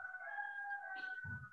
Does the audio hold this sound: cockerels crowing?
yes